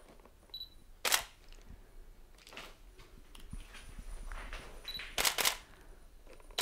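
A single-lens reflex camera shutter fires during a model photo shoot in quiet room tone. Several crisp clicks come singly and in quick pairs, close and distinct, with soft movement between them.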